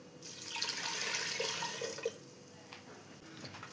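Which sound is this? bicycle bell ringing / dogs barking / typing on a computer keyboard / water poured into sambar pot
water poured into sambar pot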